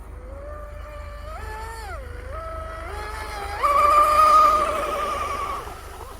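An Oxidean Oxi-digger 34-inch wooden RC outrigger boat runs at high speed, its motor whining in gliding tones that rise and fall, then swell louder and higher as it accelerates before easing back.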